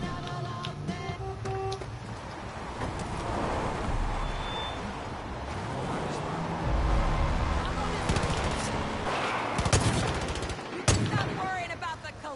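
Gunfire in the video game Far Cry 5 around a prisoner van, with bursts of rapid automatic shots and single cracks mixed with engine and action noise, voices talking over parts of it.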